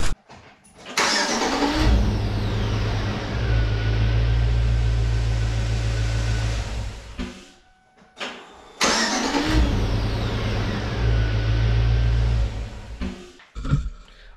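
A GM 5.3L V8 starting after a starter replacement: a brief crank catches into a loud, steady idle, shuts off, then a second start cranks and settles into idle again before cutting out, with no talking.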